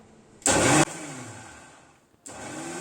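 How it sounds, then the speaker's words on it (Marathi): A mixer grinder blending carrot juice whirs loudly in a short burst, stops, then a quieter hum lingers before the motor starts up again. "थोडं थांबून थांबून मिक्सर फिरवते नाहीतर काय होतं ज्यूस बाहेर येतो"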